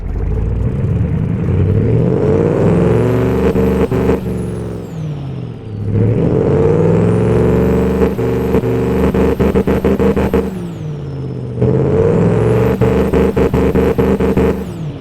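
Pickup truck engine tuned to sound close to a diesel V8, producing 920 lb-ft of torque, revving loudly and repeatedly in three long sustained pulls separated by brief dips, up close and alone without talk.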